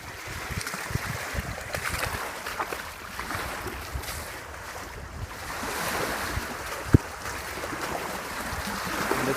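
Waves washing against an eroded Lake Michigan shore under a rising wind, a continuous rushing surf with gusty wind buffeting the microphone and occasional small knocks.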